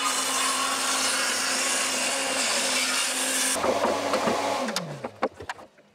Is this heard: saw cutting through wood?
yes